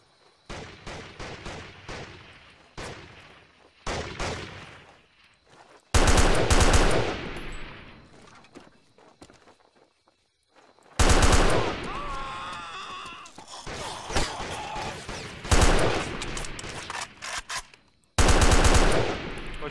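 Machine-gun fire in a shooter video game comes in loud, rapid bursts, with scattered lighter shots between longer sustained volleys and faint voices.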